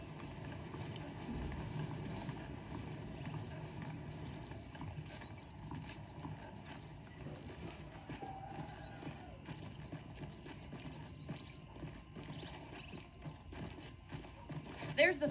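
A horse's hooves clip-clop at a steady walk on a dirt path in the Western game Red Dead Redemption, faint and continuous beneath ambient noise, with a character speaking over the ride.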